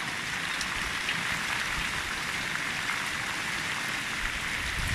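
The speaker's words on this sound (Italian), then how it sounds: "Una bella grandinata" A winter hailstorm in Calabria, Italy, makes a dense, steady hiss of pellets striking surfaces outdoors, an even wash of pattering that continues unbroken with no voices.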